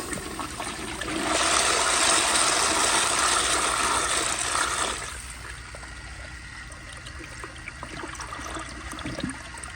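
A 1998 Eljer Dover urinal flushes through a flushometer with a loud rushing gush of water for a few seconds, then fades into quieter trickling and draining.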